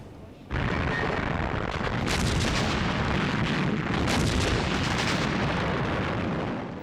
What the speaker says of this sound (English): British artillery broke up the assault, and the panzers were quickly halted.